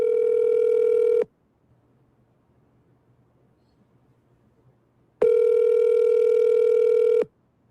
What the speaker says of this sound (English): he ignoring my call